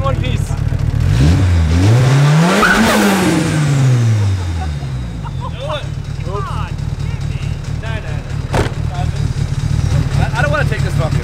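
A Nissan 180SX revs loudly up and down as it pulls away, the engine note rising then falling, with people talking over it as it settles into a steady run.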